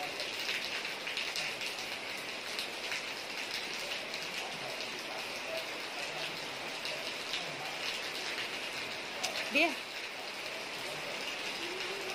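Rain patters steadily in an even, soft hiss at moderate distance, with a brief faint sound near the end.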